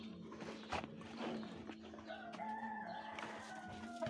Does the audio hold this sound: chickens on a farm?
yes